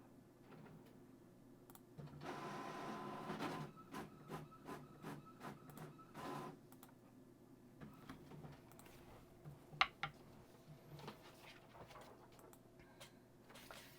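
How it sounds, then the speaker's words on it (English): Printer running in the background indoors, a burst of whirring mechanical feed followed by rapid rhythmic clicks and ticks, fairly faint and intermittent. "Sorry about the printer noises in the background"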